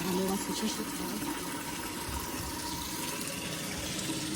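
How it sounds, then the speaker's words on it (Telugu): Water from a tap fills a vessel with a continuous broad gushing rush, steady and close throughout, with a voice briefly speaking over it at the start. "ఇప్పుడైతే నీళ్ళు చాలా నిండిపోయినాయి గైస్"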